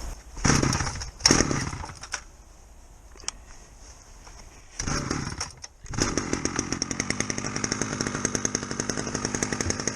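A lower-powered chainsaw, about half the engine power, revs in short bursts, drops to idle, then bites into wood while felling trees, with a steady loud whine and rapid rattling chatter.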